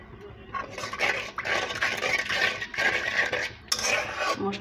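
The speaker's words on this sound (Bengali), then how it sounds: "মশলাটা কষিয়ে নিব।" A spice paste for taro and shrimp curry is stir-fried in a pan, with loud rhythmic bursts of a spatula scraping and clattering against metal, separated by brief pauses.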